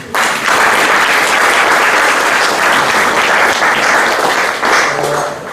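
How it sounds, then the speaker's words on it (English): A full audience at an exhibition launch applauds loudly and steadily for about five seconds, dense clapping filling the room alone, with a faint voice surfacing near the end. "I would want all of you to give them a round of applause"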